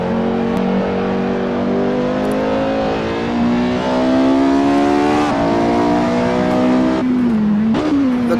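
Porsche 918 engine in the racing games Assetto Corsa and Project Cars 2, a loud, close, sustained engine note that climbs steadily in pitch through the revs, with brief dips at gear changes near the end.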